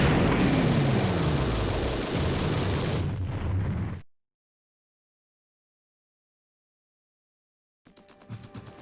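A shock troop stronghold blowing up in the shooter game TerminalFury, a loud, rumbling blast that roars for several seconds, cuts to silence, then gives way to fainter game sounds.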